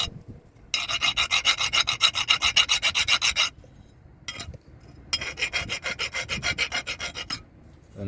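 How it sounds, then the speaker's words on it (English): A hand file rasps a car's rear brake pad down to the metal in two long runs of steady back-and-forth strokes, bright and close, with a short pause between the runs. "I'm just using my file cutter."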